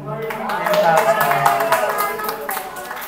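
A crowd claps together at an event for elderly grandparents, a short burst of scattered applause over loud cheering voices that swells and then fades.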